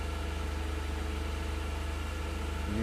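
A Ford 2.5L balanced engine in a CLARK GEN2 forklift idles steadily with an even low rumble and rapid regular pulsing, loud and close, with no speech over it.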